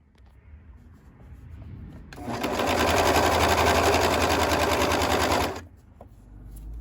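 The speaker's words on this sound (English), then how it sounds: "just go to my serger and stitch both of my sleeve seams" Serger stitching sleeve seams runs in a loud, fast, steady mechanical chatter for about three seconds, then stops, with quiet handling sounds before and after.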